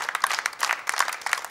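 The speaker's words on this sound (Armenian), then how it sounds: "Այո, ծափարում ենք" An audience on a television contest show claps for a contestant, a short burst of scattered, uneven handclaps close by without speech.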